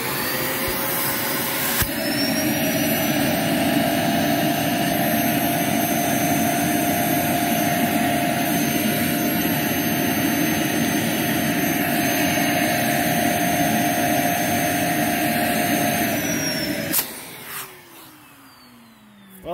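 A Dyson DC17 vacuum cleaner runs during a suction test, a loud steady whining roar with a high motor tone that holds for most of the clip, then winds down and falls silent near the end.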